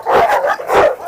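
Two close, loud dog barks spaced about half a second apart, from dogs reacting near a blue Cane Corso.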